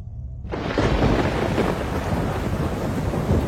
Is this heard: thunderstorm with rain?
yes